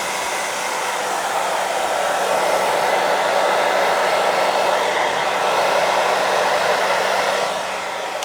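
Hairdryer blowing hot air onto the vinyl of a Volvo 240 door card, a loud steady close whoosh running unbroken for several seconds before easing slightly at the end.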